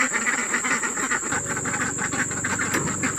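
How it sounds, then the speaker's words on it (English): Several ducks quack near a log-built duck pen, giving rapid raspy calls in irregular bursts over a steady background hiss, close and fairly loud, with no talking. "I'm pretty sure they quack like that whenever they like something."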